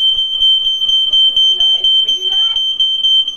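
A home security system alarm beeps in rapid, steady repetition, loud and continuous, while people talk briefly over it.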